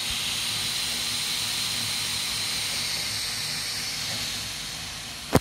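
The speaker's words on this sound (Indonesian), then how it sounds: "nyala walaupun agak sedikit lemot dan suara fan kencang" A loud cooling fan in a 2017 MacBook Pro 13-inch with Touch Bar (model A1706), running sluggishly after a soft-drink spill. It gives a steady airy rush that stays even for the whole stretch, with a short click near the end.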